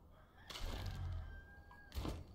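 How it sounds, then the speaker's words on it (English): A rooster crows in the survival game Enshrouded, a single drawn-out call heard faintly over quiet ambient game sound, with no speech. "there's the rooster for the morning"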